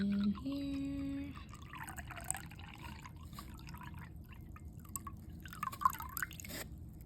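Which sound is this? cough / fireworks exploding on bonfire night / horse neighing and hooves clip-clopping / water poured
water poured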